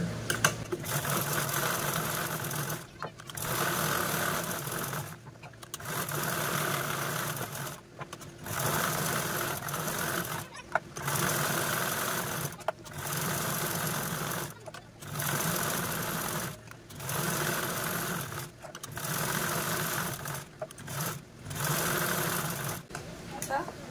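A sewing machine stitches fabric for a pencil pouch in a series of loud, close bursts of rapid whirring, each several seconds long and separated by brief pauses.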